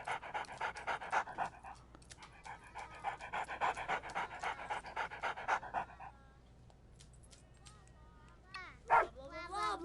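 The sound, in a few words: dog panting and barking in video game Good Dog, Bad Dog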